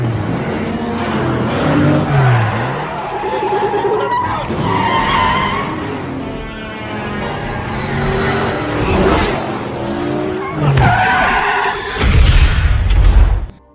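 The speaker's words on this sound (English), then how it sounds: "A high-speed car chase ensues through the streets of Manhattan." Cars tear through Manhattan city streets in a high-speed chase, with loud repeated tire skids and screeches, engines revving and accelerating close by, and a harsh burst of noise near the end.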